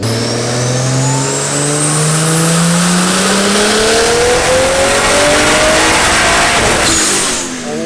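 A loud swapped car engine revs steadily upward for several seconds on a dyno, pitch climbing continuously, then cuts off sharply near the end; no voices.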